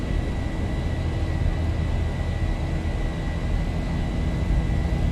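Simulated Boeing 737-800 jet engines in X-Plane 11 (Zibo Mod) spooling up to takeoff power, a steady broad roar with a faint high whine held evenly throughout.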